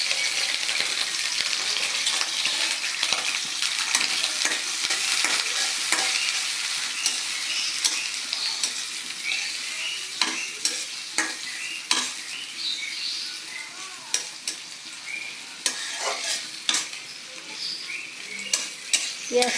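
Chopped raw onions fry in oil in a wok, a continuous loud sizzle with frequent clinks and scrapes of a spatula stirring against the metal, close up and unbroken by talk for a long stretch.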